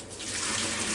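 Liquid sauce poured from a pot into a bowl while cooking pork ribs, a steady close splashing stream that swells slightly and runs continuously for about a second with no talking.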